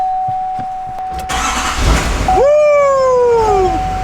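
A truck engine cranks and catches after new batteries are fitted, rising into a loud whining rev that settles toward idle, preceded by clicks and a steady electrical tone.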